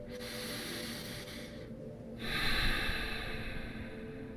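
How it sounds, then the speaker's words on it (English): Slow, deep breaths during a guided breathwork session, a steady airy rush of inhaling and exhaling heard up close, swelling louder for a fuller breath midway. "breathing a little deeper and fuller"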